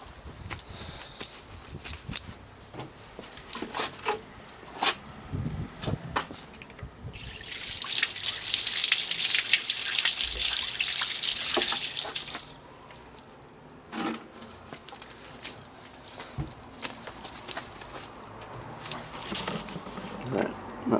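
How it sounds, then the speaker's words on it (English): Water rinses a cleaned bicycle chain: after scattered small clicks and drips, a loud steady spray hisses for about five seconds, then gives way again to lighter dripping and splashes. "I'll just get some water on there so you can see what effect that has when I rinse it off."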